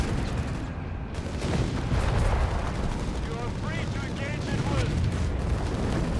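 Artillery blasts and gunfire rumble in a Company of Heroes 3 battle, with a dense, continuous wash of booms and crackling shots while a voice talks over the combat.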